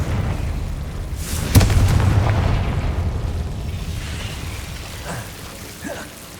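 A Confringo blasting spell goes off in Hogwarts Legacy with one sharp, loud boom and a rumbling, fading tail, followed by a few softer magical crackles and whooshes.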